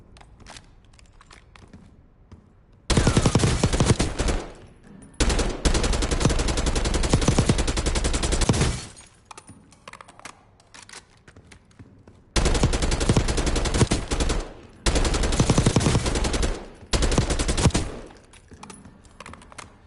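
Automatic weapon fire in Warzone: several long, loud bursts of rapid shots lasting two to three seconds each, separated by quieter gaps with faint clicking.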